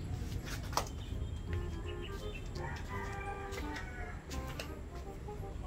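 Turkeys on a farm at morning feeding time, with a steady chorus of gobbling and calls over rustling and shuffling, some birds close and others farther off, no talking.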